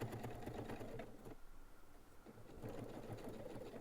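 A sewing machine stitches fabric for a homemade bag, running in a fast, steady mechanical patter. It pauses for about a second midway, then resumes at the same pace, fairly quiet and close with no talking.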